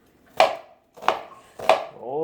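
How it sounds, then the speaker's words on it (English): A knife chops onions on a board for French onion soup, making three distinct crisp chops spaced about two-thirds of a second apart, close and fairly loud, with a voice starting at the end. "I like chopping my onions"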